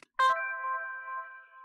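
The VKontakte alert tone for a chosen friend coming online opens with a bright metallic strike, then sustains a steady ringing chord for over a second before cutting off, clear and alone.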